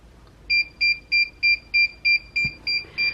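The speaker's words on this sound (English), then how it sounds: "once it's done, the machine will beep, and that lets you know that it's ready" A heat press signals that pressing is finished with a run of nine evenly spaced, loud electronic beeps, each short and bright, repeating steadily for about three seconds.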